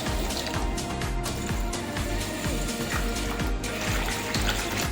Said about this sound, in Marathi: आता आपण बिर्याणीसाठी तांदूळ वॉश करून भिजत घालूया।